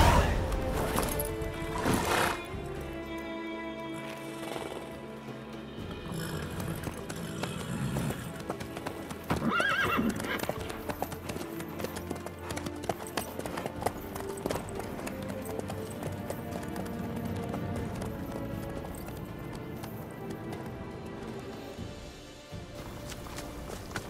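Horse hooves clop at a steady galloping pace in The Witcher 3, with a whinny around the middle. The riding sounds run throughout under game music.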